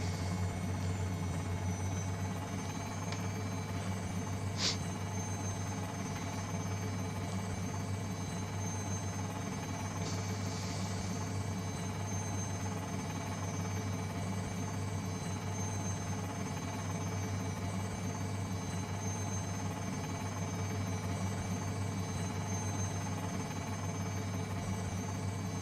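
An R44 Raven II helicopter taxis at an airport in Microsoft Flight Simulator, its engine and rotor holding a steady, continuous low drone with a faint high whine and a couple of brief clicks.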